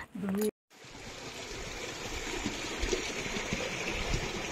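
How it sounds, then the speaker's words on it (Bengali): A glacier-fed stream flows through Turtuk village with a steady, close rush of running water. A brief fragment of voice is heard at the very start. "এই যে জলটা বয়ে যাচ্ছে গোটা তুরতুক ভিলের জুড়েই"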